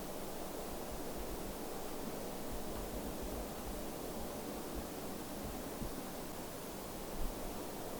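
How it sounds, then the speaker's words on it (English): Steady ocean surf rolls on as a continuous, even wash of noise, with no voices or other sounds. "Not a sound this morning, only the ocean."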